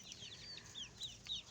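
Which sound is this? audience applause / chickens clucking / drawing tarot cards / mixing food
chickens clucking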